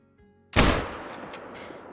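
A single sharp release at a stalking animal, with a loud snap-like onset followed by a decaying rustle and faint trailing noises, from a longbow arrow shot during a hunt.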